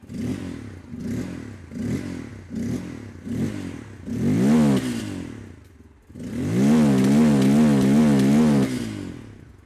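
A 2024 Bajaj Pulsar N250 motorcycle engine revved in a string of short throttle blips, then held in one long, loud rev before dropping back, close to the listener.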